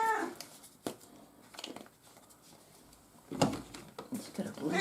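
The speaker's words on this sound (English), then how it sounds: "Getting furious with your meowing" A house cat meows in a few short, fairly close cries, scattered among quiet pauses and soft handling noises, with a voice speaking in between.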